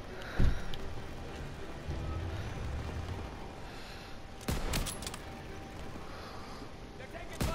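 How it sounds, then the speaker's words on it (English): Scattered gunfire rings out in Call of Duty WWII, with a few sharp shots and bursts spread across the stretch over a low battlefield rumble, some nearer and some distant. "They're taking fire from behind."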